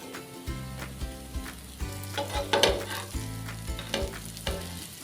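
Vadi pieces fry in hot oil in a pan over medium gas, giving a steady, close sizzle with occasional stirring scrapes and clinks throughout.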